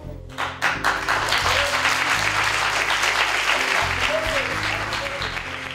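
Theatre audience applause fills the scene: dense, steady hand clapping from a crowd, loud and sustained throughout with a brief swell at the start and a faint voice or two underneath.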